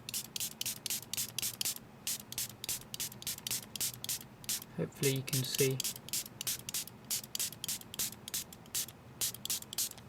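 Rapid repeated short bursts from a spray bottle misting liquid for a full-body protective film on a Samsung Galaxy S3, steady close pumps with brief talk in the middle.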